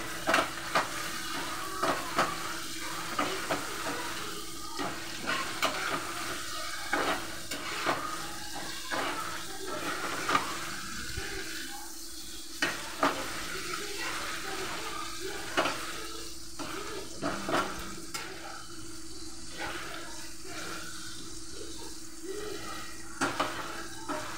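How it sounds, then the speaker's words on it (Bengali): Eggplant frying in oil with whole garlic, onion, tomato, panch phoron, chili and a little sugar, giving a steady, close sizzling hiss broken by frequent light stirring clicks throughout. "গোটা গোটা রসুন, পেঁয়াজ, টমেটো, পাঁচফোড়ন আর লঙ্কা দিয়ে ভাজা ভাজা করেছি"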